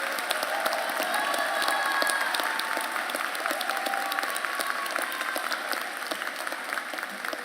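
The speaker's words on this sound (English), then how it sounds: "Please give these scholars one more round of applause for this significant accomplishment." Sustained applause from a commencement audience honoring master's degree graduates, a dense steady roar of many hands clapping in a large hall at even loudness, with no voices over it.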